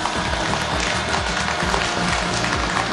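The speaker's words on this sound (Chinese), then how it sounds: "来，咱们掌声有请二号男嘉宾" A studio audience at a Beijing TV dating show claps steadily and densely throughout, a continuous wash of applause heard up close.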